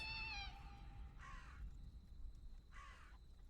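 Crow-like cawing from a bird outdoors in the We Harvest Shadows game: three separate harsh caws, each about half a second long and evenly spaced, set over a quiet background.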